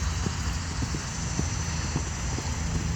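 A horse cantering with a steady, rhythmic beat of hooves on the ground, close by and fairly loud, with a constant background hum and no talking.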